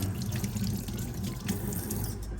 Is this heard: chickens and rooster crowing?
no